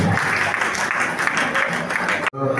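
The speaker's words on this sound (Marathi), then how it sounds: "जरा टाळ्यांचा आवाज रेश्मासाठी करायला पाहिजे" Audience applause at a Marathi awards ceremony as a journalist is honored; loud, dense, sustained clapping from a crowd that cuts off abruptly near the end.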